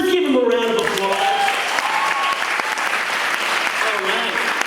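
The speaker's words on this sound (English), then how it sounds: "so let's give them a round of applause" Steady, loud audience applause fills a stand-up comedy showcase, sustained clapping throughout with a bit of crowd noise mixed in.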